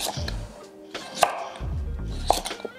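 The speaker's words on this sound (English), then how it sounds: "So you can see I'm kind of moving the pumpkin around as I chop" A knife chops through raw pumpkin on a cutting board in a few firm, separate strokes, each a close, crisp thud with short pauses between.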